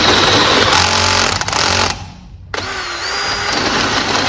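A power drill on drill setting, not a hammer drill, whirs loudly and strains trying to drill through a twisted nut, cuts out briefly, then spins up again with a steady motorized whine.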